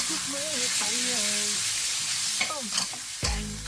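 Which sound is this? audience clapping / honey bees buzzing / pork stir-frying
pork stir-frying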